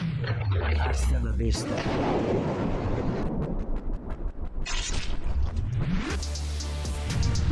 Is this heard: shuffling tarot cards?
no